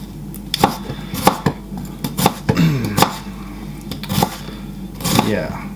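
A knife chops through onions on a cutting board in a home kitchen, a series of distinct, close knocks and taps at an uneven pace, with a person talking over parts of it.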